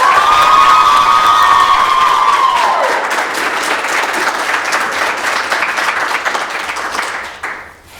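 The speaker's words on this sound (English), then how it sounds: "Can y'all please give a round of applause for these two amazing scholars?" An audience at a high school academic competition claps and cheers loudly, with a high whoop near the start, the applause going on steadily before tapering off at the end.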